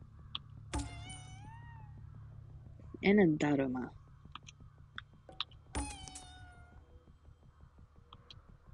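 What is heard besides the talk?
cat meowing in video game Ghostwire: Tokyo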